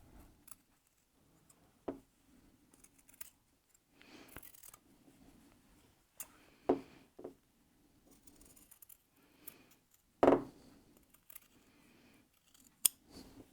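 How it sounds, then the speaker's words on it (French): Sharp scissors snips trimming a fabric seam allowance on a sewn basket, isolated quiet cuts spread over several seconds with a few louder close snips and faint background hum. "On prend les ciseaux et on va dégarnir la couture en laissant juste 2-3 mm."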